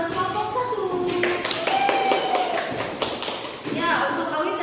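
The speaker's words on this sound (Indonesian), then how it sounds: "Tepuk tangan buat kelompok 1." A classroom of students claps for group 1 during a microteaching lab session, an irregular burst of hand claps mixed with chatter and voices.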